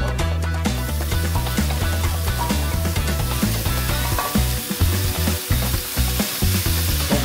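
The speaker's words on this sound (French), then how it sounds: "on va faire revenir nos chanterelles avec du beurre et bien sûr" Chanterelle mushrooms sauté in butter with garlic, giving a steady, even sizzle that runs throughout beneath prominent rhythmic background music, with no talking.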